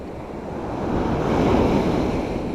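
Sea waves wash and break on the shore at a fishing spot, a steady broad roar of surf that swells slightly toward the middle, with some wind rumble on the microphone and no voices.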